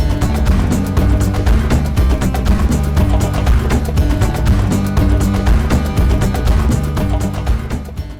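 Music mix played back through a PA or sound system with a bass-heavy EQ, booming low end dominating a dense, loud, continuous track with no talking.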